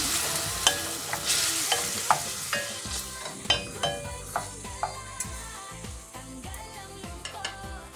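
Fish fillet and garlic fry in a pan with a steady close sizzle, punctuated by regular sharp taps and clinks of a utensil against the pan.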